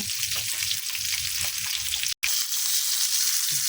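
Steady, close sizzling of red snapper (maya-maya) frying in a hot pan, a dense crackle that briefly cuts out for a moment midway before resuming.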